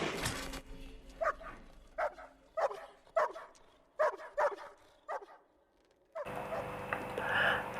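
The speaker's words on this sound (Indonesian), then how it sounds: "Sampai ia tersadar saat Sam menggonggong untuk membangunkannya." A dog named Sam barks in short repeated bursts, sharp yips and woofs spaced about a second apart at moderate distance, trying to rouse someone, followed by a stretch of steady background noise.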